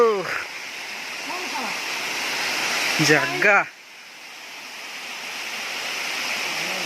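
A waterfall flowing near a cave housing deity idols: a steady rushing roar of water fills the background while people talk over it close by.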